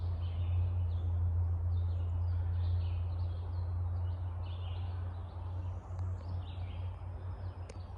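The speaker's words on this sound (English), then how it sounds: "if you hear the birds, it's just so peaceful" Birds sing with faint, scattered chirps in a Great Smoky Mountains National Park forest, distant and soft over a steady low rumble of background traffic.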